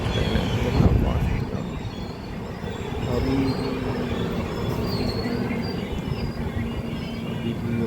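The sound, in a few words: fast train passing station, wheels squealing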